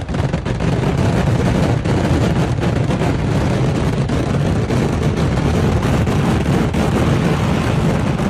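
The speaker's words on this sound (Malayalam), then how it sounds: "മേളത്തിനുശേഷം തൈക്കാട്ടുശ്ശേരി ദേശത്തിന്റെ വെടിക്കെട്ട് നടന്നു." A fireworks barrage at a Kerala temple's Kumbha Chovva Vela festival, the Thaikkattussery desam display, rumbles and crackles as one continuous, loud wall of bursts without pause.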